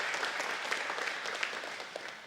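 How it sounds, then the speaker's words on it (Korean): A church congregation claps together in a brief, even burst of applause, moderately distant and without voices. "여러분 격려의 박수와 해주시길"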